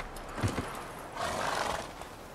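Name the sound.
Geralt's horse Roach whinnying in video game The Witcher 3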